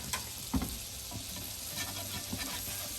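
Butter sizzling in a pan beneath a sheet of fillo pastry for a Greek katoumari, a soft, steady frying hiss with a few light scraping and stirring knocks, heard up close with no talking.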